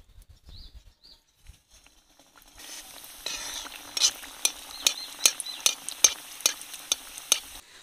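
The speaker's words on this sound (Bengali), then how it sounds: "এবার একটা একটা করে ভেজে নেব।" Chicken-stuffed rolls are fried one by one in hot oil. After a quiet start, a sizzle rises and holds steady, broken by sharp, irregular crackles and pops as hot oil is splashed over them.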